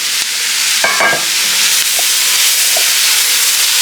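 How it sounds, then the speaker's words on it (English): Peppers and onions being stirred in a hot pot, a loud close hiss of sizzling with a few scraping knocks of the spoon near the start and light ticks later. "Now you want to stir those around with your onions."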